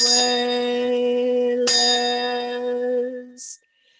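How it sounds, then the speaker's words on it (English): A hand bell rung during a sung prayer at a memorial gathering: two clear, close strikes about a second and a half apart, each ringing with bright overtones that decay slowly, followed by a brief soft noise before silence. "I'll just go ahead and sing it with my bell here."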